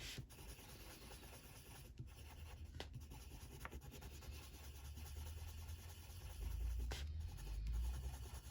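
A colored pencil in cream shade rubs back and forth across paper, a soft close scratching in continuous short strokes, quiet and intimate.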